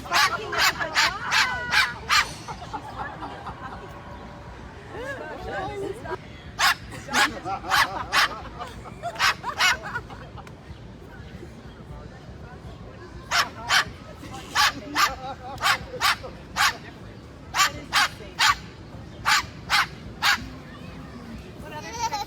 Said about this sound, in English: now she's barking at the dog